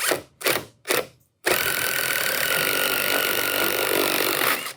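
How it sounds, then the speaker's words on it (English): A power drill bores holes in deck boards: three short whirring bursts, then a loud, steady, sustained drilling roar close by. "Now we have all 4 of our holes drilled."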